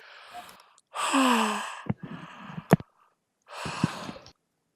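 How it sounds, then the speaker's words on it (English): A person yawns: a long, loud gasping intake that rises in pitch, then breathy exhaled sighs, a couple of sharp clicks and one more drawn-out yawning breath, all close and alone. "oh, gonna yawn again"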